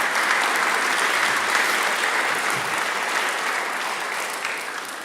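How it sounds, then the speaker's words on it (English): Audience applause at a Bernards Township school board meeting: a steady, dense wash of clapping from a room full of people, even in loudness throughout and gently easing toward the end, with no voices on top. "I think that deserves a round of applause right there."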